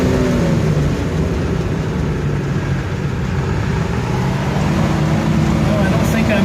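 A 1949 DeSoto convertible engine pulls steadily uphill at around 40 mph, a continuous mid-pitched drone with road and wind rumble throughout, while people talk over it.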